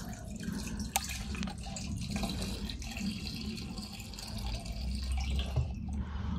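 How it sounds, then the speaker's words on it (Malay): Fuel drains from the tank of a Proton Exora CPS during a fuel pump replacement, a faint steady trickle with light drips in a quiet space. "kita tuang minyak dia"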